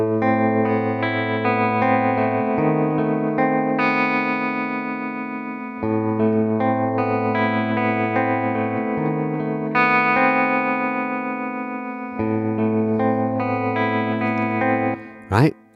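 Electric guitar through a Nembrini Double Reverb amplifier plugin in Cubasis 3 plays clean, sustained chords and single notes in a repeating pattern, loud and alone, ending with a brief sharp noise burst.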